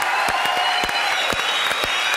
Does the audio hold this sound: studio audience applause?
yes